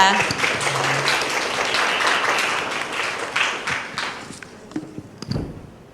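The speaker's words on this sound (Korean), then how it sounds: "박수로 다시 한번 모시겠습니다" Audience applause welcoming the head of a village community support center at a 2021 social innovation international conference session on care and community, dense clapping that thins out and fades into scattered claps toward the end.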